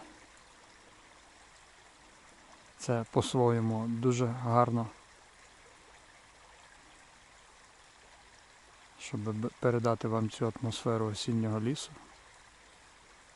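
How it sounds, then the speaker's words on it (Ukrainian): A steady babbling small forest stream in autumn woods flows throughout, soft and continuous, while a person speaks in two stretches over the water. "Також от шум потічка, такий заспокійливий."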